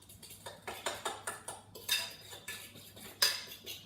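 Galette des rois batter being mixed with a utensil in a bowl, a steady run of close scraping, clinking strokes in a loose rhythm, with no talking.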